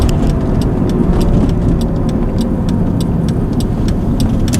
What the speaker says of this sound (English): And as I'm driving it a little more, it's starting to get easier to put it into gears.